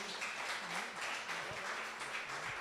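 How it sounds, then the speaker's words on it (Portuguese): A church congregation applauds during a live worship service, steady dense clapping throughout, with a faint voice or tones underneath. "Queridos, pode aplaudir o Senhor."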